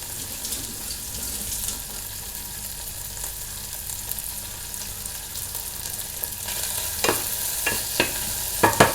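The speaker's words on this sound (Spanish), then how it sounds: "Esta sartén y vamos a echar las almendras." Almonds frying in a skillet give a steady close sizzle, with a few sharper scraping or stirring clicks near the end.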